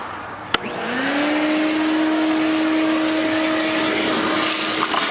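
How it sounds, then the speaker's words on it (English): A vacuum cleaner switches on after a sharp click and runs steadily with a rising whine, cleaning debris out of an old engine on a 1960 Lincoln Continental motorhome, close and loud with no talk. "We're gonna need that vacuum again, ain't we?"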